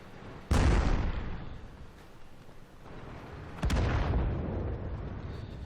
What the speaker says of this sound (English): you can see someone is taking shots at me